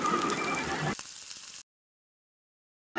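Papad fries in hot oil over a high flame for a vegetarian dish. A dense, close, crackling sizzle lasts about a second and a half, then cuts to silence before briefly returning at the end.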